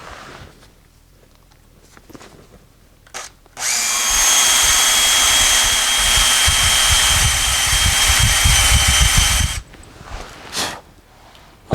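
A power drill bores steadily through a front brake part of a 1973 Ford F100 for about six seconds, loud and close, with quieter handling noises before and after.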